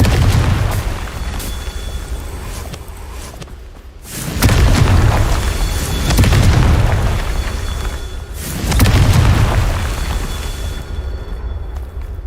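In the Hogwarts Legacy video game, a Confringo blast spell goes off as a series of deep, loud explosive booms. Three heavy bursts come at even intervals, each followed by a long, rumbling decay.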